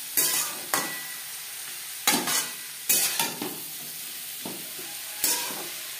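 Beetroot, carrot and potatoes stirred in a frying pan: repeated scraping strokes of a spatula over a steady low sizzle, five or six distinct bursts at close range with no talking.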